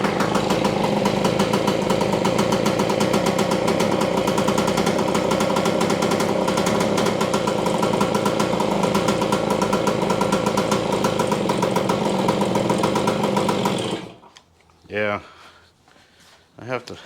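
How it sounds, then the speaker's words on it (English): A 1973 Yamaha ATMX 125 two-stroke motorcycle engine runs loudly and close with the throttle held, a steady buzzing drone that cuts off near the end, followed by a few brief faint sounds. "I have to hold the throttle in that position."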